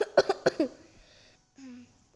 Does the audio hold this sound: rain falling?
no